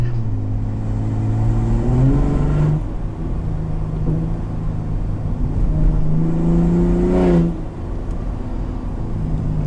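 A 2022 Ford F-150 Raptor pickup engine revs and rises in pitch twice in Baja mode, its exhaust rumbling loud and close, with a steady drone between the accelerations.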